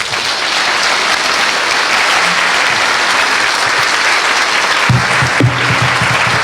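An audience at a business forum and expo breakfast applauds after a speech, with loud, dense, continuous clapping throughout and a few low voices near the end.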